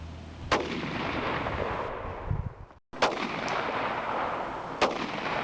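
Shotgun blasts of number 8 lead birdshot fired at a wire clay holder outdoors: two sharp, loud reports a few seconds apart over steady wind noise, with a brief dropout between them and no talking.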